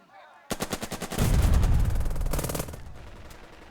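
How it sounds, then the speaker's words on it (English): In the Burden of Command video game, a tank fires at enemy units: a rapid burst of gunfire crackles, then a heavy booming blast rolls out and slowly fades, loud and close. "We can do a lot of suppression to these units by just pounding away at them with this tank."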